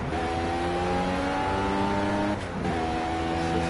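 Race car engine in the Project CARS racing game, revving loud and steady with strong harmonic tones, briefly dipping around a gear change before climbing again.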